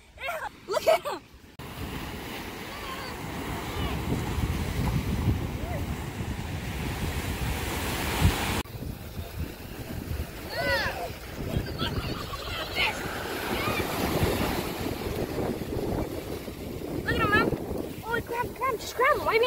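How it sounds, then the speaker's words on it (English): Ocean waves wash steadily onto a beach, a continuous surf roar with wind buffeting the microphone, while people talk intermittently over it. "So we came late to the beach."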